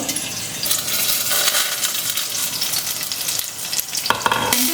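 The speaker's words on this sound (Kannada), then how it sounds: "ಇವಾಗ ಇದನ್ನ ಎಣ್ಣೆಲಿ ಚೆನ್ನಾಗಿ ಫ್ರೈ ಮಾಡ್ಕೋಬೇಕು" Green chillies fry in hot oil, with a loud, dense sizzle and crackle that continues without a break, plus a few sharp clinks and stirring scrapes near the end.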